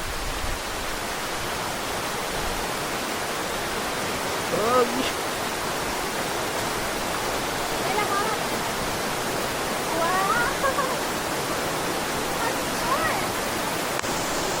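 Steady broadband rush of Basag Falls, a continuous close roar of falling water filling the whole stretch, with faint voices and small sounds briefly poking through the wash.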